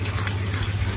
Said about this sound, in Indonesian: kita tambahkan air lagi sedikit demi sedikit ya.